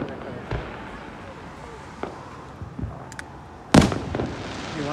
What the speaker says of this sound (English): there's some more fireworks.